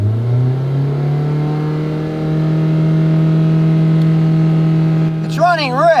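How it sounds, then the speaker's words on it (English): A car engine revved up during a fuel-trim test: a steady idle hum rises into a sustained higher rev and holds, close and loud, with a brief voice at the very end. "Let's rev it up and see what happens."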